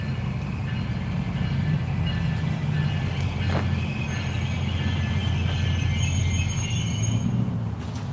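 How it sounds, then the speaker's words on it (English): A train rumbles steadily past a hotel parking area, a continuous low roar with faint high wheel squeal on top, loud and close throughout. "Here comes the train."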